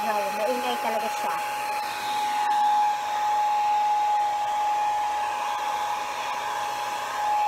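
A hair dryer blows loudly and steadily up close, a constant rushing roar with a high whine running throughout.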